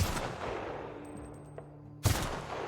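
Gunfire in the shooter game The Outer Worlds: a few sharp shots at the start, then a loud blast near the end over a low ambient hum.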